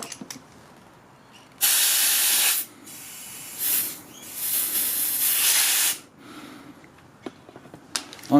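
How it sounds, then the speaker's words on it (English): Arlec Enforcer air compressor blowing air into its own tyres, several loud hissing bursts of varying length at close range, separated by short quieter gaps with light handling noise. "We can now use the air compressor to blow up the tyres on the air compressor."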